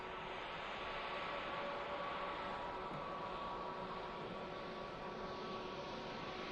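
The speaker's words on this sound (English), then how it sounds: "Transat taxis past as well." A Transat airliner taxiing at Manchester Airport makes a broad, steady jet roar and whine that stays at an even moderate level throughout, with no voices over it.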